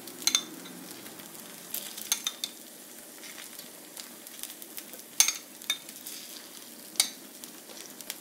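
Beaten egg spread over a dosa on a hot pan, giving a steady close sizzle with a few sharp scraping clicks and crackles scattered throughout.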